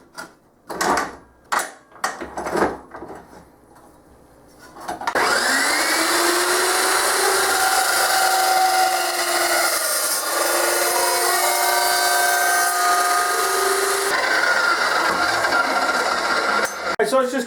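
A power saw bites into 1/8 inch brushed aluminum sheet, a loud sustained metallic whine and screech running unbroken for about twelve seconds after a few short knocks and handling noises.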